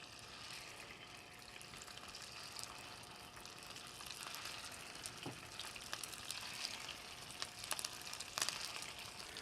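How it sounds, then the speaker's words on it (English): Meatballs fry in very hot extra light olive oil in a pan, giving a steady soft sizzle and crackle with a few small pops, close and fairly quiet, with no voice. "we're going to fry them in the olive oil"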